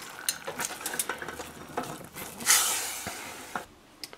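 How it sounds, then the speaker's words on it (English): A spatula scrapes and stirs through thick, bubbling sweet and sour sauce in a pan, a series of close, irregular strokes and clinks with soft sizzling between them, ending with a louder swirl and then near silence. "just make sure you give your spatula a really good stir and take it off the heat"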